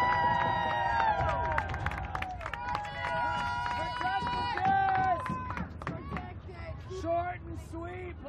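Stadium crowd shouts and cheers at a New York Empire versus Ottawa Outlaws ultimate frisbee game, a steady loud roar of many voices with whistling calls rising over it throughout.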